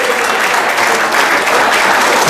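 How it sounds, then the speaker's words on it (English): A crowd of wedding guests gives the bride and groom a warm round of applause at the party, loud, dense and sustained clapping throughout. "Let's give a nice warm round of applause for a wonderful bride and groom"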